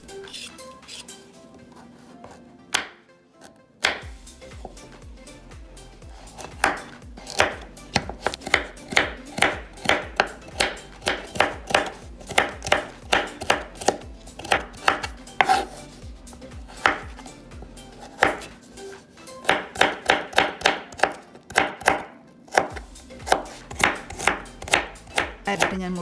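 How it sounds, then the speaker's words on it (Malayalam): Knife chopping peeled carrots on a cutting board, quick rhythmic taps in bursts with short pauses, close and clear, and a little faint talk in the background. "ക്യാരറ്റ് ഞാൻ മുറിച്ച് നുറുക്കിക്കഴിഞ്ഞു."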